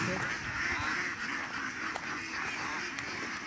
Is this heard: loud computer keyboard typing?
no